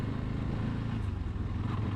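A Bajaj Pulsar F250 motorcycle rides along a highway at night, its engine a steady low rumble mixed with wind noise heard from the rider's position.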